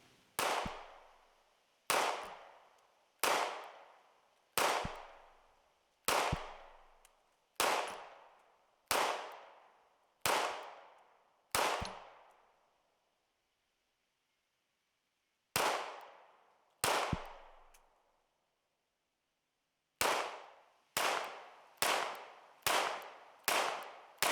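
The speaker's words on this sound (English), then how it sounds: "why don't we take some shots with the light on and just see what it's like" Single shots from an HK CC9 pistol crack out one at a time, sixteen sharp reports with short echoing tails, in a spaced series with a long pause and then a quick closing string of five.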